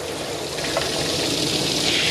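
Lukewarm water running from a tap while wetting a Maltese dog's face during grooming, a steady close hiss of flowing water with no talking.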